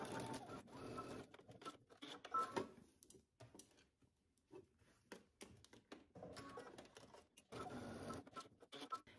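A sewing machine stitches shoulder seams with a 5/8-inch seam allowance, sounding as quiet, intermittent runs of rapid mechanical stitching separated by short pauses and soft handling noises.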